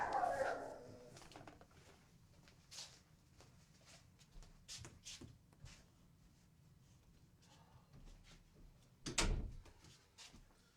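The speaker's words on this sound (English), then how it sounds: "hold on, I'm about to have to close this door" A door is shut indoors while dogs are restless nearby, giving a sharp, loud single thud near the end amid scattered bumps and faint background noise.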